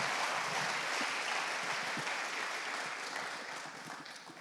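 A church congregation applauds during a Spanish-language sermon, a steady, dense wash of many hands clapping at moderate distance that holds for several seconds and then begins to thin slightly toward the end.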